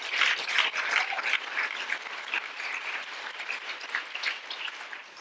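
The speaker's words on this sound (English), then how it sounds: "Round of applause and encouragement for domestic workers in New York." A keynote audience claps steadily for several seconds, a dense patter of many hands with no voices over it.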